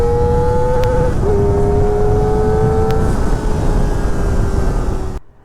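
A Kawasaki Ninja ZX-4R inline-four motorcycle is held wide open on an open stretch of road, its loud, close, high-revving whine stepping through upshifts before the sound cuts off abruptly at the end.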